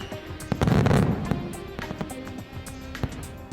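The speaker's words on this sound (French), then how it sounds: "ce n'est que le spectacle de feux d'artifice enchanté" Enchanted fireworks show in a Winx Club cartoon: a dense burst of crackling pops and bangs swells early, then gives way to scattered sharp cracks and sparkling pops that continue at moderate loudness.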